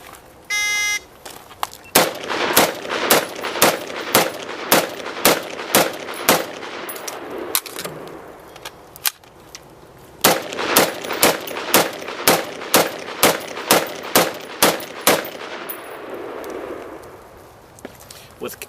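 Two 10-round magazines fired rapidly at a target array, in two close bursts of sharp, evenly spaced gunshots separated by a brief pause for the magazine change.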